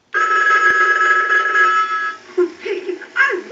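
An animated Pacific Bell Mickey Mouse telephone rings loud and steady through an analyzer ring cycle, its bright electronic trill running continuously before breaking into the toy's chirpy animated voice sounds near the end.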